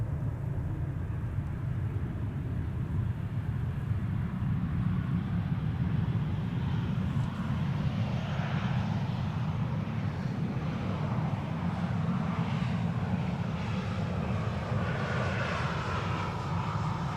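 A six-year-old Transavia Boeing 737-800 landing at Amsterdam Schiphol on a sunny winter day, its jet engines roaring steadily and close, with a rushing whine that shifts as it passes, no voices.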